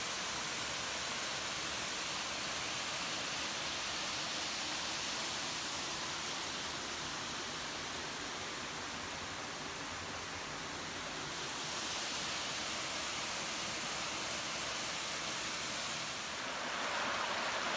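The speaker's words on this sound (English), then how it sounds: "Well, here's Mosquito Falls." Mosquito Falls at Pictured Rocks pours in a steady, broad rushing hiss that stays close and constant throughout, with no voices over it.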